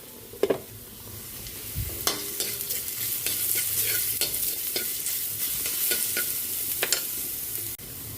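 Garlic and ginger sizzle steadily in a pan alongside pork steak, a continuous close frying hiss broken by a few stirring scrapes and clinks near the start.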